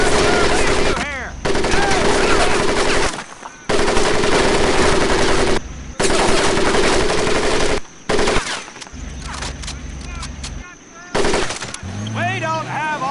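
Sustained machine gun fire rakes a mud pit in the Medal of Honor video game, loud rapid bursts repeating in long runs with brief gaps, mixed with shouting voices and other battle noise.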